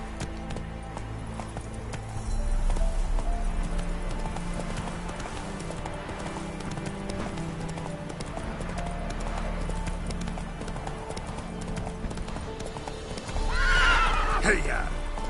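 Roach, a horse in the video game The Witcher 3, gallops with steady rapid hoofbeats throughout, ending in a loud, close whinny near the end, with voices faintly present.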